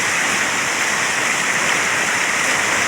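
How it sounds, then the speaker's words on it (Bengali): Water gushing hard through the Raghunath Chak culvert in Ghatal, a loud, unbroken roar of rushing flow that fills the scene with no pauses. "এখানের একটি ফুল দিয়ে এখনও বহু শব্দে জল বেরোচ্ছে"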